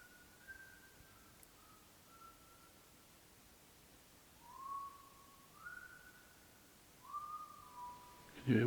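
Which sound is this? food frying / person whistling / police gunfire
person whistling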